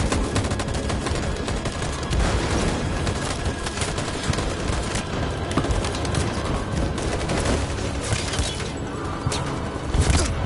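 Heavy, sustained gunfire from the video game Detroit: Become Human, loud dense volleys and rapid bursts packed together for the whole stretch with no pauses.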